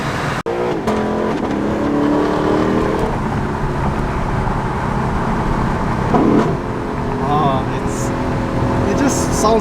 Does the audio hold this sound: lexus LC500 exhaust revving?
yes